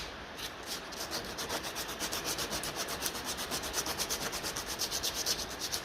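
Sandpaper rubs back and forth on a rusty dynamo part of a 1957 Ferguson FE35 TVO tractor, a close, steady, rhythmic scratching that grows slightly stronger and quicker.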